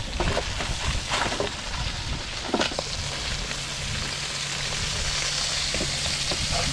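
Mud crab cooking in garlic butter on a barbie gives off a steady, close sizzle with crackling spits and pops throughout, no voices present.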